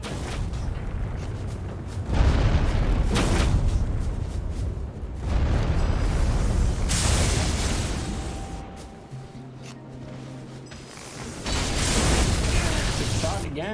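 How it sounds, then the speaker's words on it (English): Magic explosions strike a shield in Elden Ring PvP combat, several loud booming bursts with rumbling tails and metallic clanks, interleaved with game effects and a brief tonal hum. "the explosion got the shield of the other guy"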